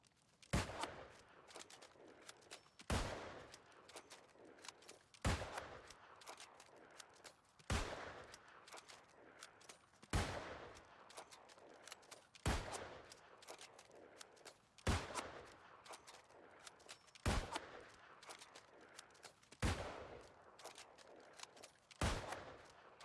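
A musket in the game New World fires from the hip about ten times, one shot every two and a half seconds, each a sharp crack followed by a short reload rattle, fairly quiet overall.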